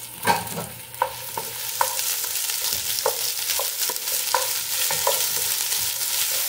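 Plenty of onions sautéed in a pan for salmon sinigang, a bright continuous sizzle with a spoon clinking and scraping in repeated close strokes throughout.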